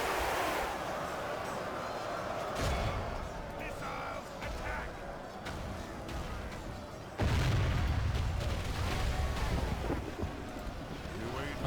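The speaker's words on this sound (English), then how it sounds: "Keep firing, keep firing." Crossbows and siege engines fire during a video game battle, a continuous rumbling roar of booms and impacts with a heavier surge partway through, while a voice talks over it.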